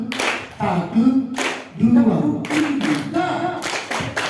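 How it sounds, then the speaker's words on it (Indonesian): Rhythmic clapping on cue from students at a junior high school OSIS leadership training in Jakarta, with several short bursts of group claps in patterns mixed with voices. "tepuk satu, dua"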